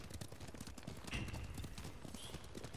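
Horse hooves clip-clop in a steady, even rhythm while riding in the Ghost of Tsushima video game, close and clear over a constant bed of ambient game noise.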